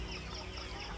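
Local village chickens cluck in a steady, dense mix of short calls, moderately loud and close, filling the whole moment with no speech over them.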